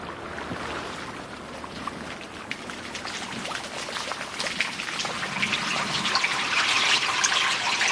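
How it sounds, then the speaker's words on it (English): Water trickles and splashes in a continuous, fairly loud wash that grows slightly fuller toward the end, with no voices. "Water."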